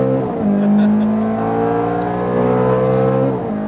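A Ferrari F430 on a racetrack revs hard through an upshift, its engine tone dropping then climbing steadily in a loud, close onboard drone with no talking.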